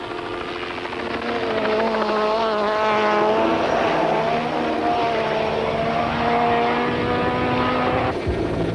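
A 2-litre four-wheel-drive Volkswagen Golf Synchro rally car roars loudly and steadily past at a rally stage, its engine note rising through the gears, with a sharp drop as it moves away near the end.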